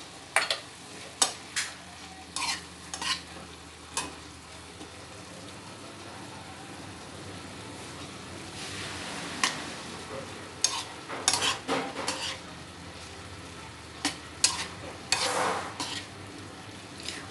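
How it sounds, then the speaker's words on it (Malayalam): A spoon stirs chopped large chillies into a simmering white olan curry of boiled vegetable pieces in a Kerala kitchen, with scattered scraping and clinking against the pot, some in quick bursts, and faint background noise between them. "ഈ വലിയ മുളക് അരിഞ്ഞതും കൂടി ചേർത്ത് ഇളക്കാം"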